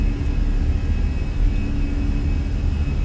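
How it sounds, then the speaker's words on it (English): Airliner jet engines spooling to takeoff power in Microsoft Flight Simulator, a steady, loud broadband roar with a faint whine, continuous and without talk. "Takeoff power set."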